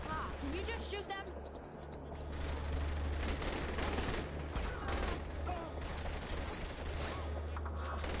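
Rapid gunfire from the video game The Hood 2, heard as a continuous rattle of shots with heavier bursts over a low game rumble. A player talks throughout.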